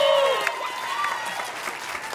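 Crowd applause at a startup launch event at a tech expo, a brief continuous wash of clapping for a couple of seconds, with a voice and some tonal sounds over it at the start.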